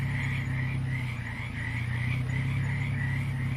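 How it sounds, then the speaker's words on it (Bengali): Insects and frogs trill steadily across open fields beside an empty road late at night, a continuous pulsing chorus with a low droning hum underneath. "চারিদিক থেকে ভেসে আসছে ঝিঝি পোকার ডাক।"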